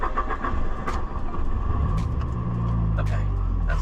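A Mitsubishi Evo 8 engine cranks and catches, settling into a loud, steady idle rumble that fills the clip, with voices talking over it throughout.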